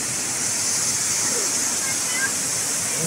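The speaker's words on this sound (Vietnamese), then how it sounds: "Cái thác đó, nó từ ở trên cao, nước ở trên cao nó đổ xuống cả nhà." Todtnau waterfall pouring down from a height, a steady, loud broadband roar of falling water filling the whole stretch without pause.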